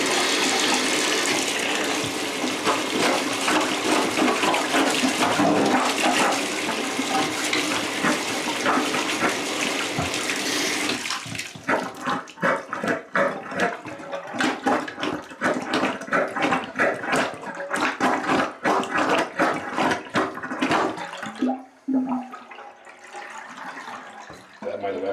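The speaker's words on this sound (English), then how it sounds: "I'm going to put some more water in there." Water poured into a slow-draining tub and shower, a loud continuous gush for about ten seconds that gives way to choppier splashing and gurgling, then fades near the end.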